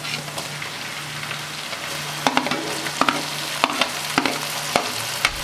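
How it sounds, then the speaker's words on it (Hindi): Ground green chillies fry with ginger and garlic in a pan, giving a continuous sizzle broken by sharp clicks of stirring that grow more frequent toward the end, close up and free of speech. "हरी मिर्च को अच्छे तरीके से फ्राई करेंगे।"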